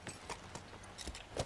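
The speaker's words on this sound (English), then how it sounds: "I'm gonna jump back on my horse because there's nothing here." Horse hooves clip-clopping in The Last of Us video game, a few sparse, fairly quiet hoofbeats spaced out over a moment with no talk.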